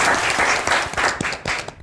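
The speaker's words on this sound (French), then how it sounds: "Et ça s'applaudit." Audience applause on a quiz show after a correct Bible-trivia answer, a brief burst of many people clapping, dense and close, fading slightly at the end.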